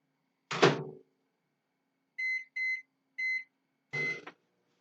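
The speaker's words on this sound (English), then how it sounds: "And then you put it in the microwave." A door thumps shut, then three electronic beeps from a microwave keypad follow, and another thump closes it out, all close by in a quiet room.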